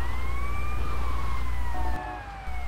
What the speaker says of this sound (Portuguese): Eu vou manter a sirene ligada o tempo todo, porque senão os carros vão sair da frente.